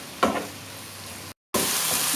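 Vegetable filling fries in a pan, a spoon stirring it with a brief scrape, over a steady sizzle that drops out for a moment, then returns louder.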